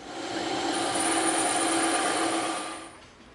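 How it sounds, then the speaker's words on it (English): A bandsaw slices through EVA foam along an inside line, a steady, loud whining buzz holding for about two and a half seconds before winding down and fading at the end. "now we're going to make this cut on the bandsaw, and we're going to cut to the inside line"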